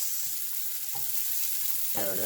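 Capsicum frying in oil, a steady broadband sizzle with brief stirring bursts near the start and end, close and moderately loud, with no voices.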